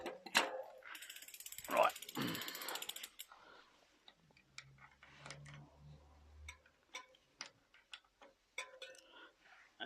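A custom mountain bike being worked on in a workshop, with gear shifts and a freewheel ratchet giving rapid close ticking and clicking, a low hum in the middle, and brief talk at the start.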